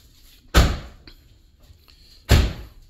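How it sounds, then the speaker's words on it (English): Two doors on a Buick Regal GS with a V6 shut one after another, each a solid, close thump about two seconds apart, with no talk. "Close those doors, please."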